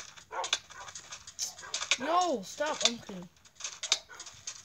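A dog whines and pants in a survival-world video game. Rising and falling whimpers come close up, mixed with quick breaths, while a person talks over them.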